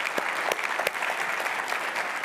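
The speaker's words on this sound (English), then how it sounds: "Let's just hear it via applause." Audience applause at a lunch-and-learn talk with an Air Force general, a crowd clapping steadily and densely for a couple of seconds, with a few sharper individual claps standing out.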